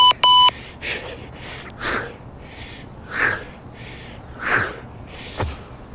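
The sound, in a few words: long beep of a workout interval timer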